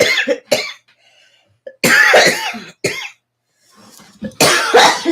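A person coughs and clears their throat in the background of a casual conversation, several harsh bursts in two clusters with brief pauses between them, fairly loud and close.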